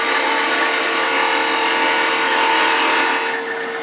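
A wood lathe turns a tenon on a piece of punky wood held in a chuck, giving a steady, loud high-pitched whir with a constant tone that drops away abruptly near the end.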